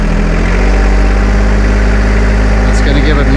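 A John Deere 2025R compact tractor engine runs loud and close, a steady low rumble as the throttle is opened further, with a person talking over it.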